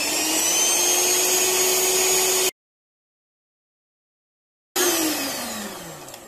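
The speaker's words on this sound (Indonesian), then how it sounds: "Mari kita mixer selama 20 menit." An electric mixer beats cake batter for an old-fashioned sponge cake with a steady, close whirring hum, cut off abruptly by a couple of seconds of silence before the motor whine returns and winds down.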